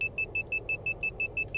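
Overspeed warning in a Citation S550 flight simulator: a steady train of about ten short, evenly spaced electronic beeps with a clear two-tone character, repeating rapidly over a low background hum.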